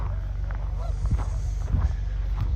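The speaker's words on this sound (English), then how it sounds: "it's better to pick up the geese" Geese honking by a lake in Regina on a November day, several scattered honks at a distance over steady low wind rumble, no talking.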